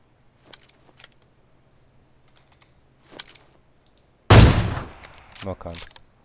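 Gunfire from an enemy in a battle royale video game: one sudden loud blast that trails off, preceded by sparse keyboard clicks and quiet talk.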